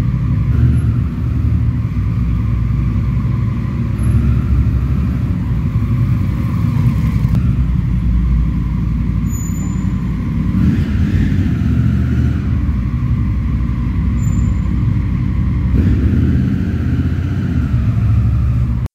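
A motorcycle doing slow stop-and-start balancing drills without the rider's feet touching down, its engine rumbling loud and close at a steady low idle with mild swells of throttle.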